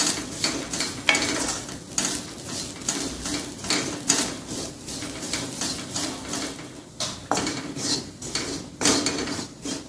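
Grated coconut roasting in oil in a pan for sweet somas, stirred steadily: continuous scraping strokes and a light sizzle repeat through the whole stretch at close range, with no talking.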